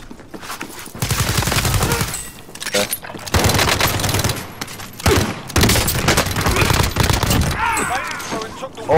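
Loud video game gunfire rattles in sustained automatic bursts with brief pauses between them. Excited player voices talk over the shooting throughout.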